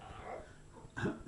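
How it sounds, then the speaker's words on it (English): Indoors, a dog lets out a single short, muffled bark near the end, preceded by low rumbling room noise; no one speaks. "That was the dog, not me, making that noise."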